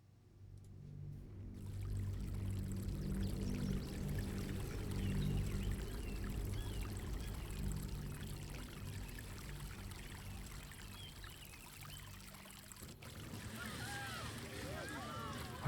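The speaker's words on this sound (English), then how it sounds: "Why do I hear running water?" Running water in the video game Baldur's Gate 3, a steady low rushing and trickling wash that continues throughout, faint and even, with a brief change in tone near the end.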